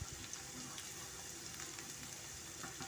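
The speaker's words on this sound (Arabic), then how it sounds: "نخلوها تتقلى مليح مليح" Chopped chard and a diced onion frying in a little oil in a pan, a steady, soft hiss of sizzling that runs evenly throughout with no voices.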